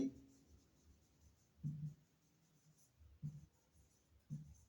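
Chalk or a marker scratches out an example sentence on a board during a grammar lecture, in faint intermittent strokes with brief lulls between them.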